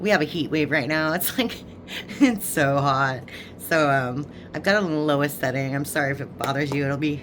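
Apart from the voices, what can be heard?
None of the usual background noises is heard.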